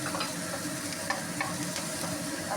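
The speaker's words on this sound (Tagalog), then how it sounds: "Kapag okay na ang ating sibuyas, ilagay na natin ang ating bawang." Minced garlic goes into sautéed onions in a pan, producing a steady close sizzle with light scraping and stirring clicks, no talking.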